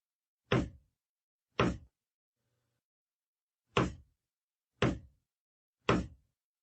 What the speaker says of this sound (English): Hark! What's that knocking? Do you hear it? Knock, knock, knock. 3 times, then a pause, and then again.